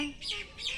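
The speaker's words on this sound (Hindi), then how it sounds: "उधर चिड़िया बोल रही है, वहाँ पे पेड़ पे" A small bird chirps from a tree, two faint high tweets in under a second against quiet outdoor background.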